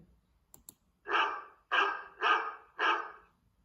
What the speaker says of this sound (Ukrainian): Це собака. Собака гавкає.